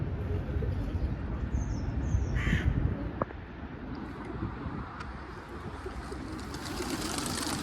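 Pigeons in Southampton city centre are heard amid outdoor urban noise. A few short bird calls sit over a dense background rumble.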